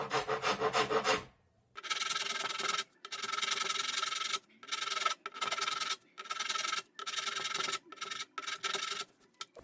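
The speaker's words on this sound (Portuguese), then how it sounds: "eu desgasto na grosa mesmo" Hand rasp filing down a metal tube (metalon) to fit an MDF shelf, a close, loud rasping scrape repeated in long strokes with brief pauses between them, with no talking.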